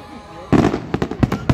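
Fireworks burst at a memorial gathering at Coney Island, a loud boom followed by a quick run of sharp crackling pops, close and outdoors.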